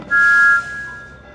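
A single steam engine whistle from the Thomas and Friends PC game gives one clear half-second blast. A fainter, shorter tone follows it, then the sound fades into soft background noise.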